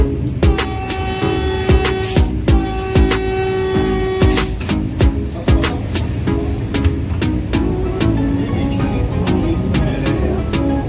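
Continuous rumble and hum of a moving Vande Bharat train between Bangalore and Mysore, with rhythmic clicks and clatter of wheels over track, steady and loud.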